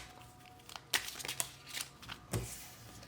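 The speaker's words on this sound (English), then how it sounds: "As I'm shuffling the cards" Tarot cards are shuffled by hand, giving soft, close riffling and papery flicks in a few short bursts against a quiet room.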